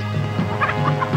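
Chickens clucking from inside crates during a hurried loading, a steady chorus of short clucks and squawks close by at moderate loudness, with no talk.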